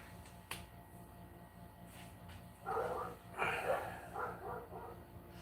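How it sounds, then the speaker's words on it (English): Several dogs bark in uneven bursts at moderate distance, with a sharp snap-like click early on and quiet background hum between barks. "Sorry about the dogs barking."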